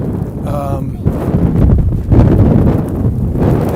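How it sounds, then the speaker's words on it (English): Gusty wind in a Manhattan snowstorm buffets the microphone in a heavy low rumble, swelling and easing throughout, with a brief higher whistle early on. "It's a little windy"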